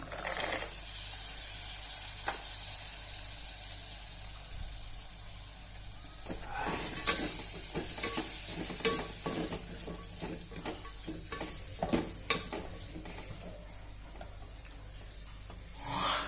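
Green peas tipped into a hot pan with spices and stirred for veg pulao, giving a soft hiss of sizzling and scraping, rubbing stirs that grow busier midway, close and without talk.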